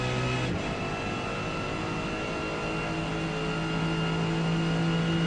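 Naturally aspirated race car engine in Gran Turismo 7, a steady sustained drone holding a near-constant pitch with a rich set of harmonics, loud and continuous throughout with no speech.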